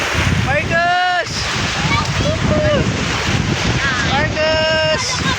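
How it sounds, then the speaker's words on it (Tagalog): Strong wind buffets the microphone out at sea off Marinduque, with surf and water rushing steadily and loudly, as people shout and whoop over it. "Andito kami sa gitna ng karagatan."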